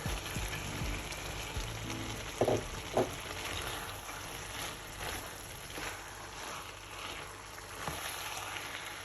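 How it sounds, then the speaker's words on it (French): Carrots go into a pan of sizzling minced meat pie filling, giving a steady, faint crackling hiss with a few louder clatters early on. "Now I'm gonna add my carrots."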